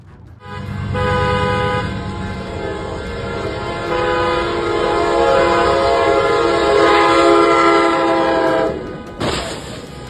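A train rushes past on a railway track with a long, loud horn blast held for several seconds, then cuts off abruptly at the end, alone with no voices.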